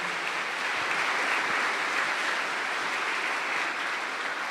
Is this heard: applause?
yes